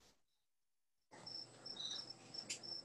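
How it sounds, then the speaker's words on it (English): Crickets chirp in a steady, faint, high-pitched trill that starts after about a second of near silence and continues without talk. "Somebody's got crickets."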